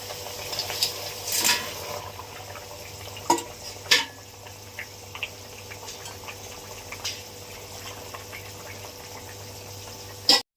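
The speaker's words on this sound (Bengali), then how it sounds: "ফুটে গেছে, আমি মাছগুলো দিয়ে দিচ্ছি।" Small fish go into a pot of boiling light curry broth with potato, cumin and ginger paste, giving soft bubbling and sizzling with a few sharper splashes and stirring clinks, quiet and close, with no voices.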